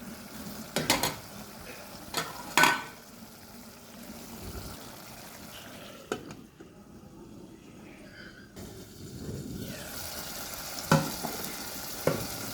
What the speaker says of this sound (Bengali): ভালো করে নেড়ে চেড়ে এখন ঢেকে দিব এটা একটু পর পর ঢাকনা উঠিয়ে নেড়ে চেড়ে দিব একদম তেল ওঠা পর্যন্ত কষাবো